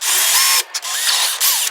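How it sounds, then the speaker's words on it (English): A power drill bores through the gel coat of a boat during a Power-Pole install, whining loudly and steadily in two bursts with a short pause between them. "working with the drill in reverse, just to get through a little bit of that top gel coat"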